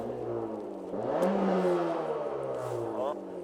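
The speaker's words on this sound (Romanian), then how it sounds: "Hai să vedem cum se aude." A Honda Civic engine revs up and holds with a rising whir, fairly close and steady, while people talk over it.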